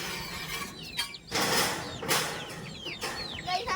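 Chickens and young chicks cluck and chirp at close range in a pet-feeding setting, with short bursts of clucking over steady background noise and no talking.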